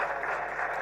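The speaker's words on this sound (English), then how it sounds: "Clap for them." Applause at a government consultative engagement forum as the audience claps for former governors being acknowledged, a steady dense clapping wash at moderate level throughout.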